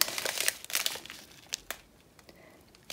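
Small plastic bags holding diamond painting drills crinkle and rustle in quick, close bursts, busiest at the start and thinning to lighter handling.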